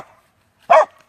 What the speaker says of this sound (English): don't be barking, please